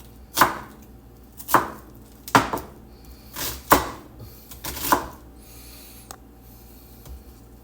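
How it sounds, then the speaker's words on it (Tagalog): A knife chops onions on a cutting board for pork kaldereta, giving five sharp, evenly spaced knocks about a second apart, close and clear, followed by quieter kitchen rustling. "Mag-iwa lang tayo ng onions."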